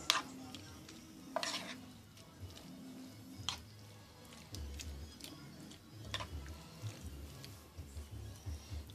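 Chicken stir fry cooking in a pan at home, with a steady low sizzle under scattered sharp clinks and taps of a utensil scraping and stirring against the pan.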